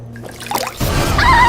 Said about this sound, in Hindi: जरा मुंह धो लेती हूँ।